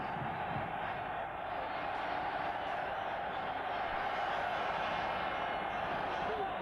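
Steady, distant roar of a football stadium crowd during a Euro 1996 match, a continuous wash of cheering and noise with no clear peaks.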